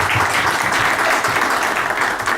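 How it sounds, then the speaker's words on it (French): An audience at a cultural gathering applauds a guest, a surgeon and writer, with dense, steady clapping from many hands in a room, loud and sustained, without speech. "il faut l'applaudir."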